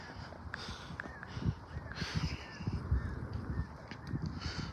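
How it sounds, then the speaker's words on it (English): Crows caw outdoors, a few harsh calls at a moderate distance over steady background noise, with no talk. "The crows will tell on you."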